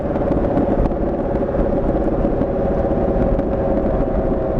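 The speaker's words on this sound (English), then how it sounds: "loud aftermarket exhaust system that has no drone, and Corsa has certainly done it with this" Corvette C7 fitted with a Corsa Sport aftermarket exhaust, a loud steady deep rumble held close and continuous throughout, with no voices.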